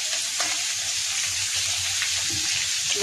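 Fish frying in a pan beside frying kakrol, a loud, close, continuous sizzle with a few light crackles and stirring touches, no talking.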